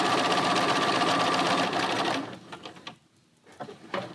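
A sewing machine runs an edge stitch foot along quilted fabric joined to soft and stable foam, stitching fast and steady for about two seconds, then stopping with a few short bursts and quiet gaps.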